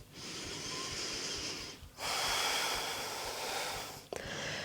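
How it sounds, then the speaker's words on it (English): Deep, slow breaths drawn and released while holding a crescent lunge in a vinyasa yoga flow, close and fairly loud airy inhales and exhales with a brief sharp pause near the end, no talking. "we'll hold here for 5 deep breaths"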